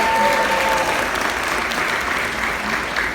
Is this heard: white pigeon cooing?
no